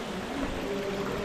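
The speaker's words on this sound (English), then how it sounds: "Waterfall." A waterfall roars as a steady, broadband rush with a low hum running through it, faint and continuous throughout, with no voices.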